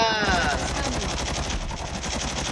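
Rapid automatic gunfire from the mobile shooter game Call of Duty Mobile rattles steadily and loudly throughout, a dense continuous burst with no pauses.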